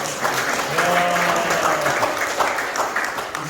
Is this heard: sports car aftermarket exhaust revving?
no